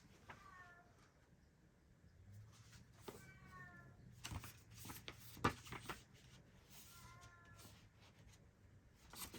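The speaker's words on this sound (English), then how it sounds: "Can you hear my cat meowing?" A cat meows several times, short drawn-out cries spaced a few seconds apart, fairly close, with faint background knocks and room noise.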